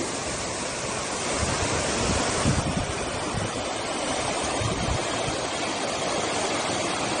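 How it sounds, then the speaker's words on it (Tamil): Clear mountain stream pouring down Nanuoya Falls, a loud, steady broadband rush of falling water that fills the whole scene without pause. "தெளிந்த நீரோடை என்பார்களே அந்த தெளிந்த நீரோடை தான் இது"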